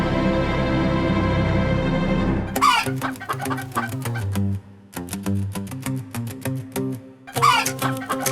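A chicken clucks near at hand in short repeated bursts, the clucks broken by pauses and mixed with background music.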